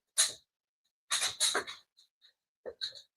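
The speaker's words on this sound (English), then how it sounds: "We'll let the dogs out real quick." Dogs make short, sharp bursts of snuffling and squeaky yelps in several clusters with silent gaps between them, close by in a quiet indoor setting.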